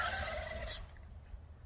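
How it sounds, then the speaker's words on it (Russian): White heavy turkeys gobbling an alarm call: a brief burst of rapid, warbling gobbles at moderate distance that fades out after under a second, leaving quiet outdoor background. "Куры пугаются и предупреждают об опасности индюки, куры."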